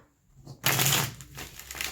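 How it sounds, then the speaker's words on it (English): Tarot cards being shuffled by hand, a brief quiet start then a loud, close, sustained riffling rustle lasting over a second, with no talking. "I feel like I got a good shuffle there."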